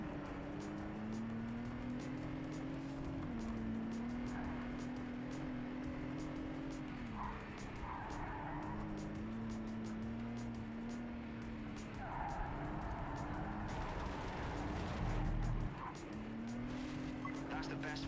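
Race car driving and drifting in Project CARS 3, a steady engine drone rising and falling with gear changes, tire squeal and skidding, with voices talking over it.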